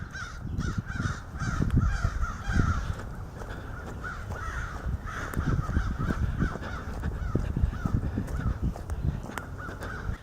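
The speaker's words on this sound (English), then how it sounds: "Nowadays, we can hear some of the crows over there." Several crows caw repeatedly from a short distance in an outdoor setting in Frankfort, Kentucky, harsh calls coming in irregular bursts over a low background rumble.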